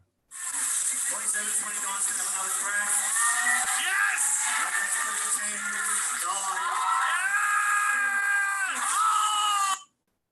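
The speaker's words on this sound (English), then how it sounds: "And I'm sorry for my yelling." A person yells loudly and continuously in a played-back recording of a robotics team's robots, harsh and strained, sounding distorted as if from a speaker, lasting nearly ten seconds.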